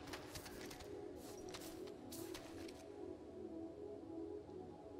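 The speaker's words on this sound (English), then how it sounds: "Good ass crows." Crows cawing in the video game Roki near Raven's Castle, three faint rasping calls in a row over a low, steady ambient hum.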